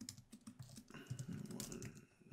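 Quick keystrokes on a computer keyboard while JavaScript code for a Redux counter slice is typed, the tapping close and steady beneath a low hum, with a voice murmuring over part of it.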